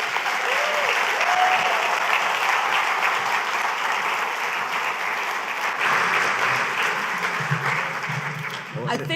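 Conference audience in Grenada applauds after a creative-sector speech, dense, loud, sustained clapping filling the room, easing slightly near the end as a voice begins.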